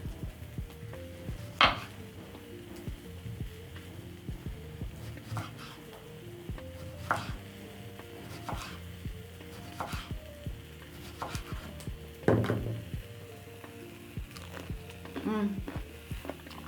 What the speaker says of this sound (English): I'm going to be slicing up a cucumber